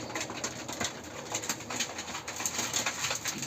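Pigeons cooing softly and steadily in a loft, a low continuous murmur with faint flutters and rustles mixed in, no voices present.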